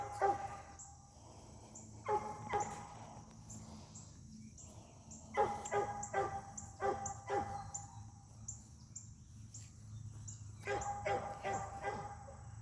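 A puppy whines and yips in short bursts to be let out, with quieter pauses between, over a steady low background hum.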